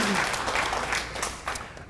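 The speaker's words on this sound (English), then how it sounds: "that was an applause line" A seated audience at a book talk applauds, a steady wash of clapping from many hands that holds through and tapers slightly near the end.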